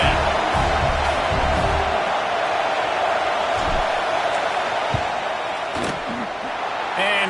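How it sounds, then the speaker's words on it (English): A stadium crowd roars during a field goal try in the NCAA 26 college football video game, a loud sustained wash of cheering with scattered thumps, under a commentator's speech. "This crowd trying to do its part to get inside the kicker's head"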